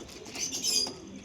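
A male pigeon at a pigeon seller's flaps its wings in a quick, close flurry of soft feathery beats that swell briefly and fade.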